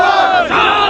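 Students at a mass protest shout in unison, a loud, dense roar of many voices chanting a slogan together, close and continuous with a brief dip midway.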